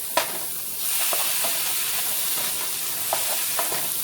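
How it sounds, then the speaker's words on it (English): Red onion softening in a hot pan, a steady close hiss of frying with a few light scraping stirs and taps of a utensil. "Now you just cook this until it's just a little bit soft"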